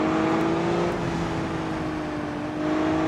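Derby cars, including a Corvette, race around a figure-8 track in the BeamNG driving game, giving a loud, steady engine drone and revving hum that runs throughout with no talk.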